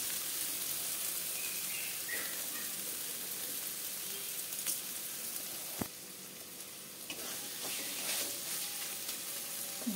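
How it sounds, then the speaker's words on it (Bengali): Spice masala frying in a pan for a mutton curry, giving a steady, soft sizzle throughout with a faint scrape or stir partway through. No one speaks. "আমার মশলাটা কষানো হয়ে গেছে।"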